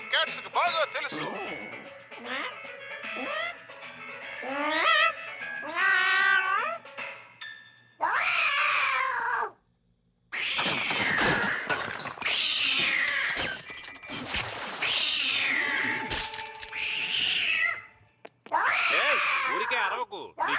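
A cartoon cat in the Telugu dub of Kid vs Kat yowls and caterwauls in a series of loud, drawn-out, wavering meows broken by short pauses, voiced theatrically like an animated character.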